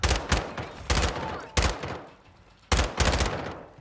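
Loud sniper gunfire in a video game, several sharp cracks in an uneven rhythm, some quick doubled shots, each trailing off into a fading echo.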